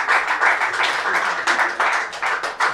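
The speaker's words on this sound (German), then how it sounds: "Applaus, Applaus!" Audience clapping at a live talk show, close and bright, with rhythmic bursts of claps continuing throughout.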